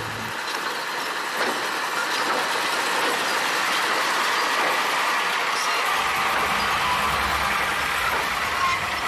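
Sugarcane train on the Kedawung sugar mill line: locomotive number 02 slowly hauls a string of lorries loaded with cane up a slight incline, making a steady loud rumble with rail clatter and a deeper engine drone that rises near the end.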